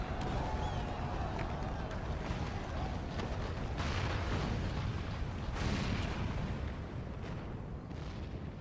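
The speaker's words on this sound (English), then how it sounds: "The main tower just collapsed. You heard it too, didn't you? It must have been the cannon at Castrum Abania." Heavy cannon fire and a collapsing tower rumble through a battle scene in Final Fantasy XIV, a dense, continuous roar with a few sharper bursts and no speech.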